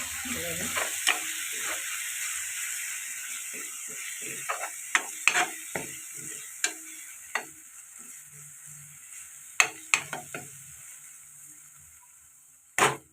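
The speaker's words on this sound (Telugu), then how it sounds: "ఒక నిమిషం పాటు ఈ మసాలాలు ఫ్రై చేసుకున్న తర్వాత" Masala spices with coriander powder frying in a pan for a Kakinada-style raw snail curry: a steady close sizzle punctuated by sharp, irregular clicks and scrapes of a spoon stirring.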